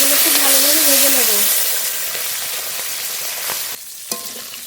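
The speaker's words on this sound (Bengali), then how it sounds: "মাছগুলো খুব ভালোভাবে ভেজে নেব।" Fish frying in very hot mustard oil in a heated kadai, a steady loud sizzle and crackle throughout, with a brief tonal whistle early on and a dip in the noise near the end.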